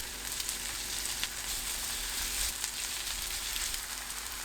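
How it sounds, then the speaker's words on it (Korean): Chive pancake batter, studded with cockles, fries flat in an oiled pan over medium-low heat. It makes a steady, even sizzle with a soft hiss that stays consistent and close, with no voices. "팬에 식용유 두르고 예열합니다. 중약불로 낮추고 반죽을 납작하게 올려주세요."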